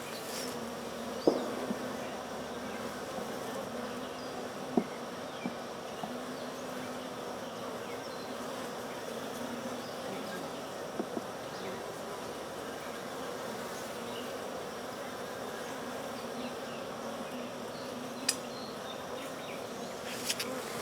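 Honey bees buzzing around an open hive in July, a continuous dense hum of many insects with a few faint knocks and clicks, no talk.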